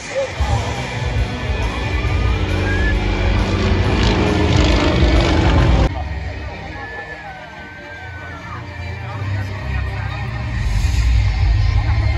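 Aircraft roar steadily overhead at the Lusail Sky Festival air show in Qatar, a broad engine rumble with a crowd murmuring and someone talking over it.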